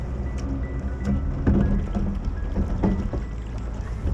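A Leander Club rowing boat, an eight or a pair, moves on open water with a dense, steady rush of water and splashing, broken by rhythmic knocks and catches of the oars every second or so.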